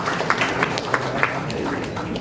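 Light, scattered clapping from an audience at a pre-technical meeting for a Mimika regency choir festival, a thin patter of handclaps with a few sharper claps standing out, fairly faint throughout.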